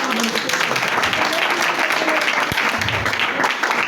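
Church congregation applauding at a Hindi-Urdu sermon: a dense, steady wash of clapping hands filling the room, with voices murmuring faintly beneath and a single sharp thump partway through.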